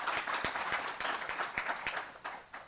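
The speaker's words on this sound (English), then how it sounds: "please give a round of applause to our panelists" A seminar audience applauds panelists at a disaster preparedness event in Hawaii, steady moderate clapping from a room of people with individual claps audible, fading slightly toward the end.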